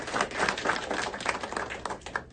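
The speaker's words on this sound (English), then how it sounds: "Round of applause for his family." A round of applause from an audience at a church gathering, a short burst of dense, fairly close clapping that holds steady before tapering off.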